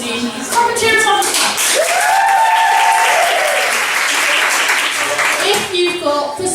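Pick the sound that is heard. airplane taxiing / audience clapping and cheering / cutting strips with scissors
audience clapping and cheering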